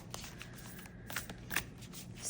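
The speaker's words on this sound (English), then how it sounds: "So let me just give us a shuffle." Oracle cards from a Mother Mary deck are shuffled by hand, giving a soft continuous papery riffle and slide with small crisp flicks, close and quiet, with no talking.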